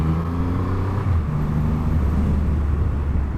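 A 2020 Triumph Rocket 3 R motorcycle carries a steady loud engine drone through a corner, with a low, throbbing tone that holds evenly throughout and no talking.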